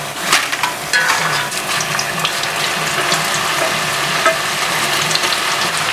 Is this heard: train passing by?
no